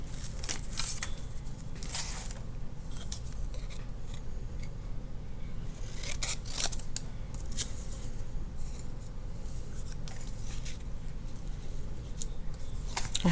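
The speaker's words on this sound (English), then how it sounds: "Here's my scissors." Scissors cutting paper while Christmas junk journal page embellishments are crafted, with close crisp snips and rustling paper handling scattered irregularly over a low, steady background hum.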